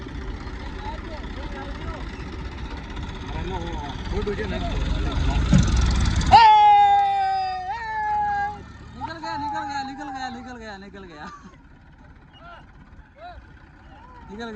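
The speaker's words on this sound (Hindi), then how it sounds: "ये ट्रैक्टर अपने दम पर तो शायद ही निकल पाता, दूसरा ट्रैक्टर आया तभी निकल पाया।" A tractor stuck in a muddy field rumbles and strains as it pulls out, the low engine noise building for about six seconds before it drops away and voices talk over a quieter background.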